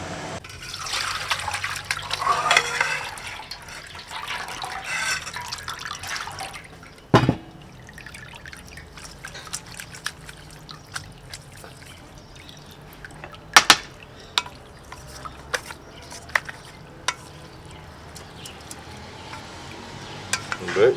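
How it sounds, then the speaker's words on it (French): African land snails are rinsed in water in a Kinshasa kitchen, with sloshing and splashing early on, then scattered drips, clinks and knocks of shells and bowls, close and moderately loud. "On va rincer au moins 3 fois"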